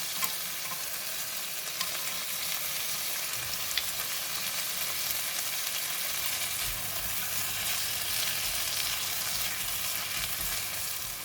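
Tom yum paste fries in a pan with chicken and mushroom, making a constant loud sizzle with occasional sharp ticks and scraping from stirring.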